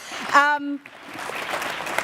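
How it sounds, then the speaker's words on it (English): Audience applause at a business summit, a spread of clapping building in the background after a short spoken voice, steady and moderately distant toward the end. "give Lutando a big round of applause"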